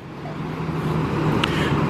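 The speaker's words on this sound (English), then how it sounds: "here comes another vehicle" A vehicle arriving at a police station, its engine a steady low hum with a faint high squeak near the end, close and fairly loud, with no talk.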